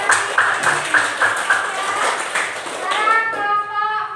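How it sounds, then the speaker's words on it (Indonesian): Classroom applause from a group of students, a burst of clapping with a few sharper claps standing out, followed by children's voices chattering over it. "Oke, tepuk tangan lagi"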